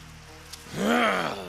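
Heavy hurricane rain in a cartoon hisses steadily in the background. Partway through, a rising and falling tonal whine swells over it.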